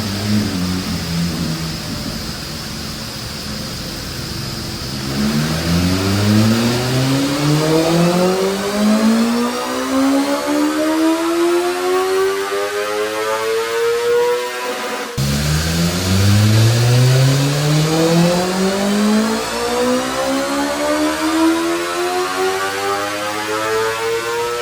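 A BMW S1000RR motorcycle engine on a dyno sweeps up through the revs twice in long, loud, rising pulls, each ending in a drop back down, with a steady background hum between the runs.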